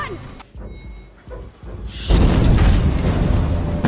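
A parcel bomb blast in a film scene, beginning with a few sharp cinematic hits and whooshes, then a loud, sustained roaring explosion rumbling on for almost two seconds.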